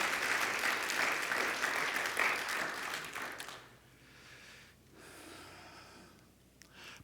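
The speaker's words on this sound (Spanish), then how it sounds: "Dale un aplauso de alabanza a Él." A church congregation applauds in praise, a dense, fairly distant wash of clapping that fades out after about three and a half seconds into quiet room tone with a few soft breaths and shuffles.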